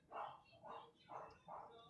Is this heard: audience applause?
no